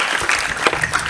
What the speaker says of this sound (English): Can we clap for Kumba game?